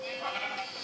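A sheep bleats in a video game, a short, fairly loud, wavering cry lasting under a second, close and with no other sound around it.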